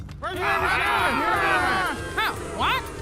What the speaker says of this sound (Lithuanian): Bet minia rėkė vis garsiau ir garsiau.